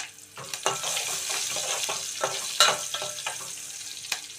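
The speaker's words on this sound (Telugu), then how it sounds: "ఒక చిన్న ఉల్లిపాయ పొడవుగా కట్ చేసి ముక్కలు అందులో వేసి కలుపుకుందామండి." Sliced onion frying and being stirred in a pan while cooking an ivy gourd and tomato curry, with a steady close sizzle broken by several sharp scraping stirs.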